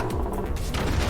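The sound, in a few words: heavy cannon blowing up a base in the video game Forts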